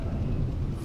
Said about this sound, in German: Warum hört sich das an wie Gewitter?